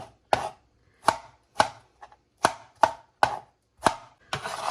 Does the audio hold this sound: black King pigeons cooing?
no